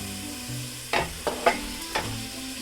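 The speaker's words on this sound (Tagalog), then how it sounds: "We will stir a bit." A spatula stirs Singaporean laksa in a frying pan, giving four quick scraping strokes over a quiet background hum with no voices.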